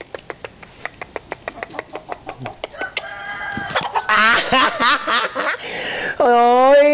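Chickens cluck in a quick series of short notes, then a rooster crows loudly and close, with squawks and a long strained crow at the end.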